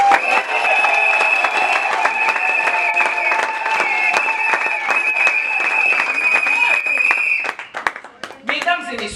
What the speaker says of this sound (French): Je vous demanderai d'applaudir le chef de l'État.